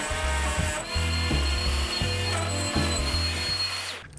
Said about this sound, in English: I used a router and a keyhole bit to make a hanger.